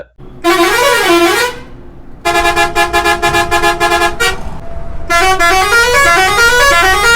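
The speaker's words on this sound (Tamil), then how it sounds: "க்ரூஸ் வந்து அவங்களோட சொந்த செலவுல வந்து ஹாரன் வந்து அப்கிரேட் பண்ணி வச்சிருக்காங்க" An upgraded multi-tone horn on a Volvo multi-axle bus blares loudly in three bursts, each a rising and falling melodic sequence of honks with brief gaps between, very close and dominant.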